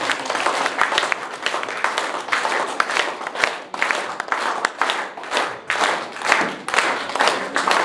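An audience at a yoga camp claps together in a welcome, a sustained run of dense, rhythmic hand clapping with swelling bursts, fairly close and without talk.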